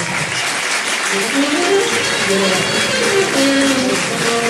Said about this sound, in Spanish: Quiero tener un mucho aplauso